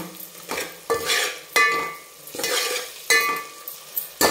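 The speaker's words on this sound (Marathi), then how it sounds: "थोडंसं असं चमच्याने आपल्याला मॅश करून घ्यायचं अशा पद्धतीने." A spoon mashes softened tomato in a hot pan for rasam rice, giving a series of close, soft scraping and squishing strokes over a faint sizzle, about six pushes spaced roughly half a second apart.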